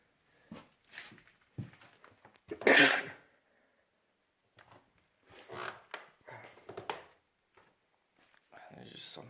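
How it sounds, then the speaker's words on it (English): One loud, sharp sneeze bursts out in a dusty abandoned farmhouse, triggered by dust, standing out among quieter footsteps, rustling and brief speech before and after. "the dust is really making me sneeze"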